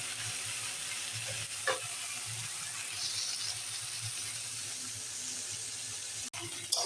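Okra (bhindi) fries in a pan with a soft, steady sizzle close by, broken by a few light clanks and scrapes of stirring and a sharp knock near the end.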